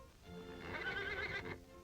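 A horse fighting the bit gives a single loud, rising-and-falling whinny lasting about a second, with a faint hoof clop around it.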